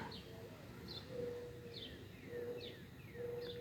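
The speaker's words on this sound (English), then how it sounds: "I think that's definitely an owl, though." A distant owl at night gives soft, repeated calls at regular intervals over a faint outdoor background, with thin chirping notes mixed in.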